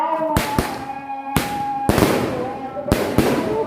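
Sharp, loud firecracker bangs burst irregularly at a village Eid al-Fitr eve celebration, several sharp cracks with echoing crackle between them, while people talk and shout in the background.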